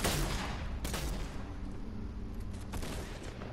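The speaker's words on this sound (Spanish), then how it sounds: "Muchos disparos." Dense bursts of gunfire crackle and boom in a Fortnite battle royale match, with a sharp loud shot near the start and a busy, distant-sounding stretch of firing throughout.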